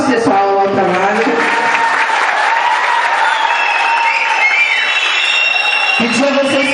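A school audience claps and cheers after a class presentation, with shouting children and loud voices mixed through the steady applause, close and busy throughout.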